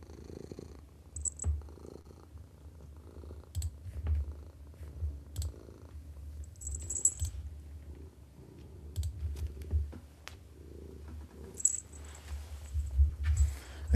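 Close, steady purring from a cat near a computer desk, a low continuous rumble under scattered keyboard clicks and mouse taps, with no talking.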